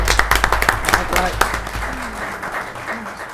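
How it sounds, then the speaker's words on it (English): Short round of audience applause at a county board of commissioners meeting, a burst of claps that tapers off, with a voice speaking over the end. "Let's give him a round of applause as well."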